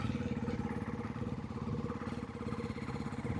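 A Ducati motorcycle with its stock exhaust idles nearby, a steady low, lumpy thrum with regular pulsing and a faint mechanical clatter, alone without talk.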